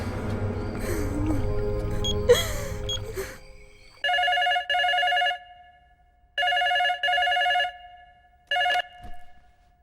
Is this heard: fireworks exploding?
no